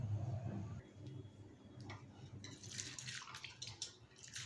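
Rice is washed by hand in water for Mangalore rice, giving faint, soft swishing and light splashing that grows busier toward the end, with a low murmur early on.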